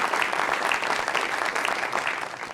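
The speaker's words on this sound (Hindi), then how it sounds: "मुमताज़ साहिबा, के लिए जोरदार तालियां" Studio audience applauding actress Mumtaz on a New Year special talk show: dense, steady clapping from a crowd, fairly loud and continuous throughout.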